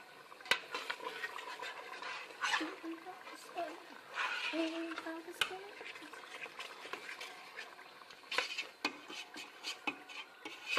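A spoon scrapes and knocks in a pot of spaghetti sauce with sausages, irregular clatter and soft stirring close by, mixed with a person talking.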